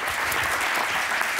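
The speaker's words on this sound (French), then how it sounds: "Vous pouvez les applaudir." An audience applauds space institute presidents at a live Mars landing event, a dense, steady wash of clapping that continues evenly throughout, moderately loud with no voices on top.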